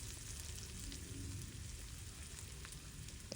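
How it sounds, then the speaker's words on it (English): Onions with curry leaves frying in a pan for Goan-style dal, a steady dense sizzle and crackle running throughout at close range with no voices. "continue to cook it until the onions turn a nice golden brown"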